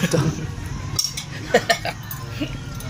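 Dishes and cutlery clink and scrape in scattered, light knocks during washing at home, with a soft background hum and occasional nearby sounds.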